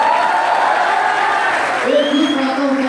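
An audience at a poetry recital applauds the poet, a sustained wash of clapping and crowd noise with some cheering, while a voice talks over it.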